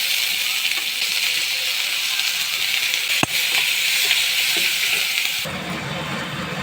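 Mustard seeds, garlic and onions fry in hot oil for a South Indian brinjal gravy, giving a loud, steady sizzle with one sharp click midway before the hiss drops quieter near the end.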